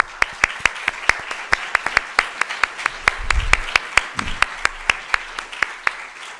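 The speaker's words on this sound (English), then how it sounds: "it's time for us to also applaud the organizers" Steady, evenly spaced clapping from an audience at an academic psychology faculty event, applauding a presentation and its organizers; sharp, distinct claps keep a brisk rhythm throughout, with a faint low rumble midway.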